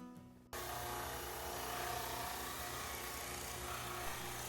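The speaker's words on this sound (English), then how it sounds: "I use the drum sander to get this down to an even thickness." A drum sander levels a glued wooden fish net to an even thickness in a workshop, starting abruptly after a brief quiet moment and then running as a steady, loud, rough grinding roar throughout with no talk.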